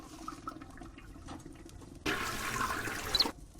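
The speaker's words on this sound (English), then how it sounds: "it kind of connects to this flush button, so let's flush him out" A toilet flushing in the video game Chaos on Deponia, a sudden loud rush of water that starts after a quiet stretch and lasts about a second before cutting off.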